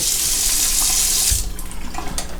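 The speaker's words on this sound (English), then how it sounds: "First I'll rinse with hot water and then cold." Hot then cold tap water gushes steadily into a sink for over a second while rinsing after shaving, then the flow stops, leaving softer drips and splashes close by.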